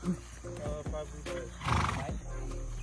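A horse snorts and neighs loudly close by, with a sharp breathy snort followed by a shrill whinny, hooves clopping now and then.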